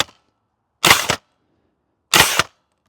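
Two sharp shots from an airsoft GM6 Lynx sniper rifle, spaced about a second apart, each a loud close crack with a short snappy tail, nothing else around them.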